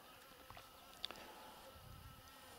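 Honeybees flying around opened hives in spring sunshine at about 10 degrees, a faint, steady buzzing of many insects at a distance, with a few brief closer passes.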